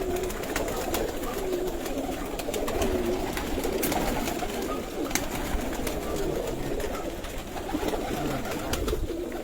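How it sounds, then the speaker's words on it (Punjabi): Home-bred pigeons coo steadily in low, rolling murmurs, several birds overlapping continuously at close range, with faint rustling and outdoor background noise. "ਇਹ ਅੱਸੂ ਦੀ ਤਿਆਰੀ ਵਾਸਤੇ ਕਬੂਤਰ ਕੱਢੇ ਨੇ ਜੀ"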